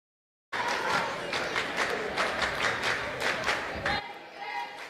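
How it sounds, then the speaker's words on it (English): Basketball crowd at a girls' tournament game, Battiest vs Antlers, cheering on their feet with Wright City cheerleaders leading; a loud, sustained roar of voices and clapping that starts abruptly and fades slightly at the end. "the Wright City cheerleaders have their crowd on their feet"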